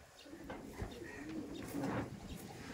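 A Madras pigeon coos softly in a low, rolling call, fairly faint against a hissy background.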